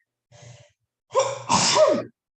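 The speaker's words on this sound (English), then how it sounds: "I don't know if I'm gonna sneeze or not." A single sneeze: a short breathy inhale, then a sharp, loud burst of air, close and alone.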